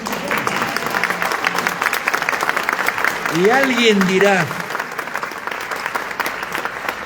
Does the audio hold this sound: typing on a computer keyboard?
no